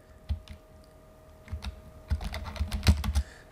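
Close computer keyboard keystrokes, a few isolated taps at first, then a quicker run of clicks ending in firmer presses, with no talking.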